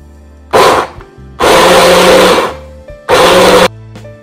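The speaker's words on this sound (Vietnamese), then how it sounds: "Cái máy xay tay này rất là tiện." A handheld stick blender purees kiwi for a fruit yogurt shake in three loud, close bursts of whirring motor noise, separated by short pauses.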